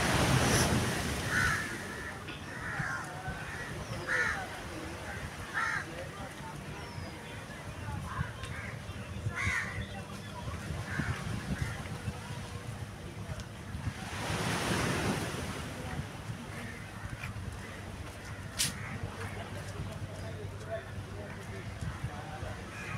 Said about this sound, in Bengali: আমি ফার্স্ট টাইম আরেবিয়ান সি দেখছি, আমার ফ্যামিলিও তাই।